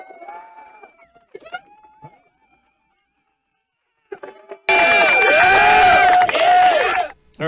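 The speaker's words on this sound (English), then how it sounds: "Or at least a cheering from the crowd?" A loud burst of crowd cheering and whooping cuts in abruptly after a stretch of quiet and faint voices, holding steady for a few seconds before stopping short.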